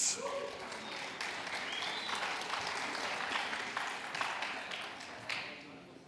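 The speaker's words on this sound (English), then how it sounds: "Thank you for the warm applause" Audience applause at a cannabis clubs conference panel in Berlin, steady clapping from a crowd filling the room for several seconds, moderately distant and fairly quiet.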